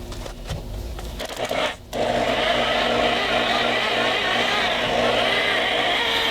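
Power buffing wheel running against an outboard motor cowling with 3M medium compound, a steady close whirring hiss that briefly drops out and then holds loud and even.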